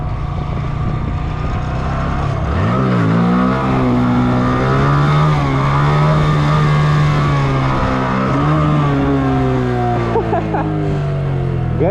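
A motorcycle engine revs and holds a sustained drone during a long wheelie on the road, loud and close, its pitch rising and falling as the throttle changes, with wind rush underneath.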